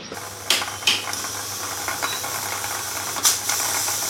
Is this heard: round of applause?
no